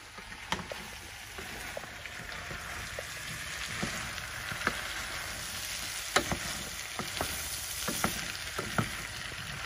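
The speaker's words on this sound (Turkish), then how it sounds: "şöyle biraz karıştıracağım. Yani patatesiyle biraz kavuracağım." Potatoes fry in a pan seasoned with salt and black pepper in a village kitchen in Hatay, giving a steady close sizzle broken by frequent scraping and clicking stirs, with no talking.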